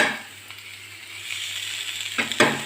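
Beetroot sautés in a large pan, a soft, steady sizzle close by, broken near the end by a couple of louder scraping stirs.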